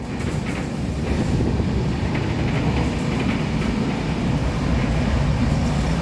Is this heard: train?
yes